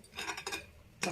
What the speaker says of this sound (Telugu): దీంట్లోనే కాఫీ పొడి వేసి కలుపుతానండి నేను.